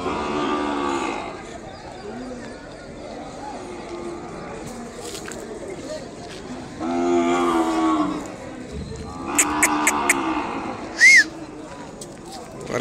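Calves lowing at a cattle market in Kodada, with several distinct moos at moderate distance over a steady crowd murmur and background talk, plus a few sharper calls near the end.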